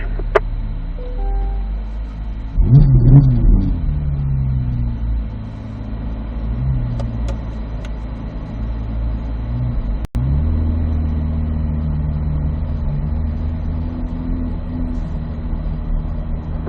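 Cars drive out onto a track at low speed, giving a steady engine rumble with a louder surge near three seconds and a sharp thump near ten seconds, continuing as an even drone.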